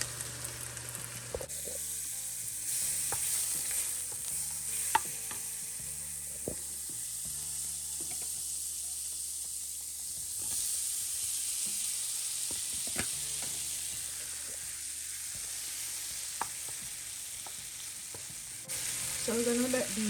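Shrimp frying in butter in a pan, a steady close sizzle with stirring and scraping throughout and occasional sharp ticks of utensils against the pan.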